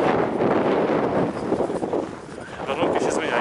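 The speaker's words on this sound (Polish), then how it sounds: "Wiatr jest, nie wiem czy będzie sobie słychać." Gusty wind on snowy Śnieżka mountain in winter roars steadily into the microphone, buffeting with a rough, broadband rush that swells and dips slightly throughout.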